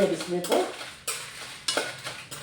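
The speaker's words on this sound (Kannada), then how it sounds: "ಎಣ್ಣೆ ಬಿಸಿಯಾಗಿದೆ ಎಷ್ಟು ಬೇಕಷ್ಟು ಬಿಸಿಯಾಗಿದೆ ಒಣ ಮೆಣಸಿನಕಾಯಿ ಹಾಕ್ತಾಯಿದ್ದೀನಿ" Dry red chillies dropped into hot oil on a medium flame for a village-style bangda (mackerel) curry, giving a loud, close sizzle broken by stirring and metal clatter against the pan, with surges of crackle as the spice hits the oil.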